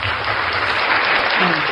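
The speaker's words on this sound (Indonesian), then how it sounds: "tepuk tangan untuk Yesus" A church congregation breaks into loud, dense applause during a heated sermon debate, a full and close burst of clapping with a faint voice briefly audible underneath.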